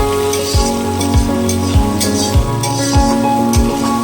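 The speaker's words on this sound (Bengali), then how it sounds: "ব্রাউন কালার অবধি ভেজে নেব।" Chicken pieces fry in a hot pan, a loud, close sizzle with regular stirring scrapes roughly every half second over a steady crackling bed.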